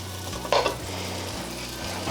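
Butter melting and foaming in a pan for creamed turkey over toast, giving a steady low sizzle throughout with a brief louder burst of bubbling near the start, close and continuous.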